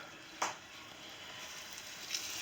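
Breaded eggplant slices frying in oil in a pan, a faint steady sizzle with two brief louder crackles as pieces are set down.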